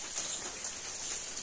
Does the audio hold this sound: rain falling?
yes